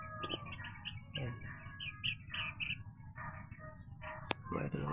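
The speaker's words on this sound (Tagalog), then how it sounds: "dumapong ibon, oh. Hindi tukmo yan." A small bird, not a dove, perched nearby at a hunting spot under a cornfield, giving a series of short, faint chirps and tweets in quick bursts over soft rustling background, with a low voice murmuring at times.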